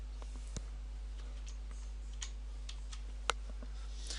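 Computer keys tapped a few times during a Python coding tutorial, sparse light clicks over a steady low electrical hum, with one sharper click standing out; no talking.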